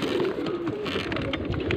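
Pigeons of a breeder flock in Faisalabad cooing, soft low throaty coos rolling continuously at close range over a busy background murmur, with no talk.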